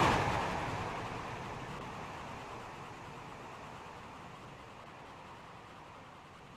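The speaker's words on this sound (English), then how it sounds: "The train now approaching Platform 1 does not stop here." Non-stopping train passing a station platform in the Roblox game Stepford County Railway, a steady broadband rushing roar that starts loud and slowly fades over several seconds, with no talking.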